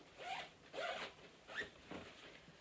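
A zipper on a packing bag is pulled in several quick raspy strokes, faint and close, with no talk.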